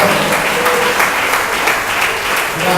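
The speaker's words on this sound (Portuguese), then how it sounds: "dar uma salva de palmas bem forte para Jesus agora" A church congregation at an Easter resurrection service claps loudly for Jesus, with sustained, even applause that fills the room close and strong throughout.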